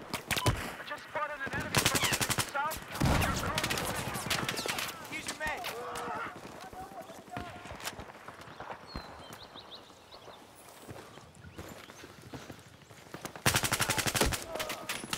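Gunfire in Battlefield 4 team deathmatch on Operation Mortar with AUG and L85 rifles, loud rapid automatic bursts at the start and end with scattered shots and game noise between.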